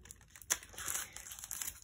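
Plastic packaging being unwrapped from embossing folders for papercraft, a close, brief crinkling and crumpling with a sharp tear-like burst midway, with no talking.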